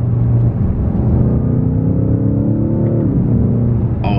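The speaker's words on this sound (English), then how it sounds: "I know y'all heard that exhaust. I know y'all heard that through the cabin, man." Deep exhaust drone of a 2023 BMW XM, heard from inside the cabin as the heavy vehicle pulls hard, rising steadily in pitch for about three seconds before easing off, loud and without speech.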